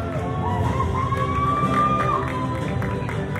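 Audience at the Mister International 2023 preliminary chat night cheering and clapping, a dense steady roar of crowd noise with whoops and shouts rising over it, loud and continuous throughout.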